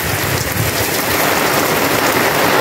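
Heavy rain pouring down steadily, a dense continuous hiss of drops hitting surfaces close by, with no talking.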